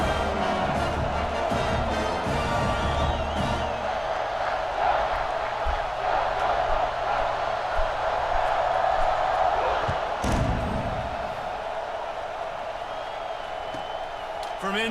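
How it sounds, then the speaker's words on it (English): A football stadium crowd buzzes after a score, a steady, fairly distant murmur that swells in bursts. A commentator talks over it throughout. "this crowd is buzzing after that last score"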